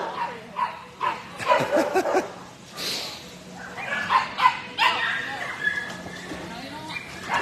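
A loose puppy named Cleopatra gives short barks and yips mixed with soft whimpers, close by, while a woman keeps calling to her.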